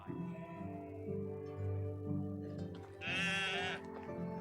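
A goat in the video game Medieval Dynasty bleats loudly and shakily for about a second, over a steady musical background with tonal game-like sounds.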